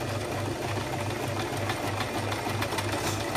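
A sewing machine fitted with a gathering foot stitches two layers of fabric, with a fast, even, rhythmic whirring chatter that runs steadily and close up.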